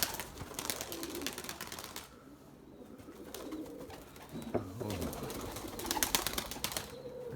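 Domestic pigeons, including a male that tumbles in flight, coo in soft, low bursts around a loft amid rustling, scuffing and background noise, with no talk.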